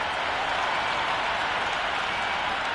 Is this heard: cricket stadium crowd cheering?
yes